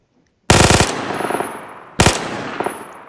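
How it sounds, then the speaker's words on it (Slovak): A scorpion gun in a Minecraft Create-mod game fires two loud, rapid automatic bursts, each sharp onset trailing into a decaying rattle, with no speech. "keď ten škorpión vystrieľate, tak stále bude strieľať"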